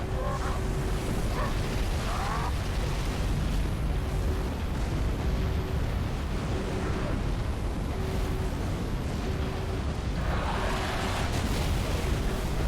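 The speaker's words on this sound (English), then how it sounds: "And those explosions are amazing." Heavy, continuous rumbling blasts of explosions in the Halo 3 video game, a loud sustained roar with bursts rising over a low game-music drone, no speech.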